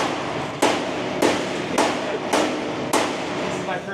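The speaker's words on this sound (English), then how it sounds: "is my first time using the hammer" Five sharp hammer blows land at an uneven pace, roughly every half second to second, while loading a 1971 GMC ramp truck, each strike a loud close impact over a steady background.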